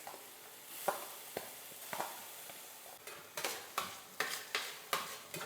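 Garlic, onion and green chili sautéing in a pan, a quiet steady sizzle broken by sharp utensil taps and scrapes of stirring that come more often toward the end.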